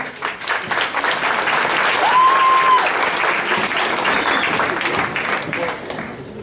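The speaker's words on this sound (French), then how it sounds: "S'il vous plaît, sous vos applaudissements." Steady applause from a beauty pageant audience, clapping continuously at fairly close range for several seconds before tapering slightly at the end.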